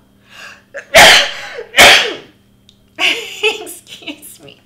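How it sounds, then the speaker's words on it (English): A single person's sneeze bursts out loud and close, a sharp explosive blast followed by a second one about a second later, then quieter breathy sounds and muffled talk trailing off, indoors at a craft desk. "I feel a sneeze coming on."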